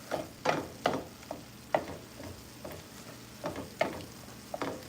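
Ground beef sloppy joe mix simmering in a pan, a quiet low bubbling with a string of soft scraping stirs and taps recurring at uneven intervals, heard close and without speech.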